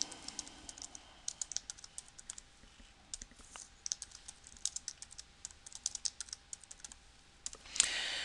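Rapid, steady typing on a computer keyboard, with dense clusters of crisp key clicks running for several seconds, close and clear over a faint background hum while a security setting is entered in Dynamics GP.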